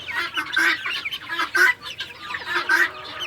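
Small bantam chickens cluck and murmur nearby in a repeating burbling pattern, several soft calls overlapping across a few seconds.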